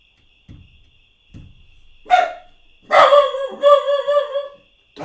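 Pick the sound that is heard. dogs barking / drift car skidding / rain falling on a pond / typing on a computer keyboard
dogs barking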